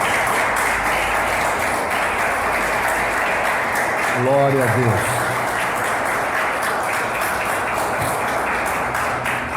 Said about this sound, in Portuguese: Aplauda Jesus de Nazaré.